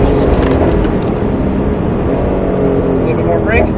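A Roush Mustang RS3 on the Speed Vegas track gives a loud, continuous engine roar that shifts slightly in pitch, with a voice talking over it.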